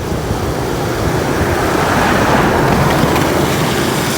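Floodwater from a rising creek rushes past in a loud, constant broadband roar, with wind buffeting the microphone; no voices.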